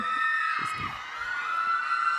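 Fans at a celebrity charity event scream and cheer in a sustained, loud, high-pitched roar throughout.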